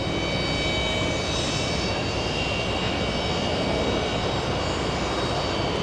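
Jet airliners taxi at JFK airport, including a Delta long-haul jet, as a loud, steady engine roar with a high whine holds throughout, close and unbroken.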